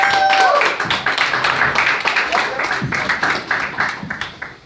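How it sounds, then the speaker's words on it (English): Comedy-club audience applauds for stand-up comedian Joel, dense clapping that swells loud at first then thins into scattered claps, with crowd voices and a brief whistle-like tone near the start. "Everyone, please put your hands together for Joel!"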